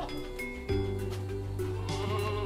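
Goats bleating on a goat farm, a sustained wavering bleat that rises suddenly and holds, with other animal calls layered over steady barn noise, close and fairly loud.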